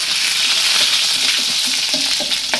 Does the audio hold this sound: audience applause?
no